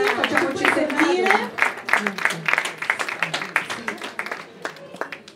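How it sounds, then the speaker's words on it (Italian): Audience applause at an award ceremony, with a crowd clapping in a dense patter that fades toward the end while someone speaks over it through a microphone. "Accogliamoli con un grande applauso"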